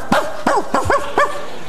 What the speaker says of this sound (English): A dog. A dog.